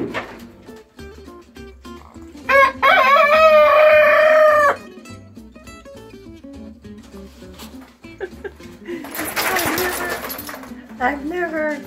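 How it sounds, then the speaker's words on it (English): A rooster named Clyde, recovering from a double ear infection, gives a loud, close crow indoors lasting a couple of seconds, followed later by a raspier call, with people talking around it. "I've never had a rooster crow inside my house before."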